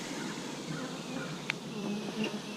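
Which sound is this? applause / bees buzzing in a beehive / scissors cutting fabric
bees buzzing in a beehive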